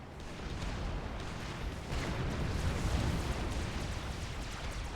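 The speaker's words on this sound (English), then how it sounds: "Mantis takes the first bit of fire from that plasma cannon." Heavy booming cannon fire and rumbling blasts from a plasma cannon in the real-time strategy game Supreme Commander, a dense continuous barrage that swells near the middle and holds steady, with no talk over it.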